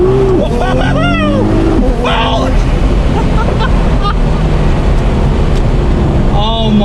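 A 1300 BHP Nissan R35 GT-R with an HKS GT1000+ turbo kit, running on 93 pump gas at around 980 wheel horsepower, roars loudly as it pulls hard through the gears, with rising engine tones and excited talk inside the cabin.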